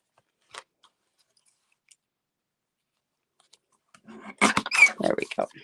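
Scissors trim card stock for a handmade card with a single quick snip, a couple of faint ticks, then a louder burst of close cutting and paper rustling near the end.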